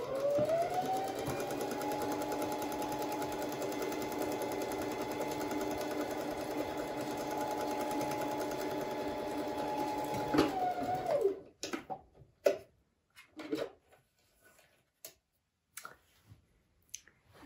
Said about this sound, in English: put the presser foot down, lock in the first stitch, and you can stitch away